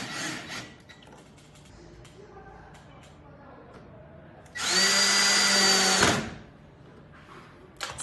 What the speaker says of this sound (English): Drill the holes at the marked locations.